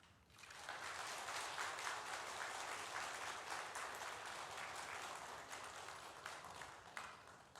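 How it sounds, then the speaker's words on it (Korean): A church congregation gives a guest preacher a warm welcome with a sustained burst of applause that starts abruptly, holds steady for several seconds and tapers slightly at the end. "여러분들 큰 박수로 좀 환영해 주시기 바랍니다"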